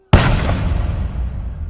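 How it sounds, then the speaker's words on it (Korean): A single sharp gunshot rings out in a film scene, a loud sudden bang followed by a decaying, rumbling echo that fades over about a second and a half. "총성과 함께 쓰러지는 마하비르"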